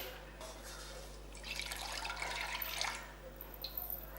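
Thin coconut milk pours from a container for a chocolate payasam, a soft, close liquid stream that swells briefly in the middle and then trails off into faint drips.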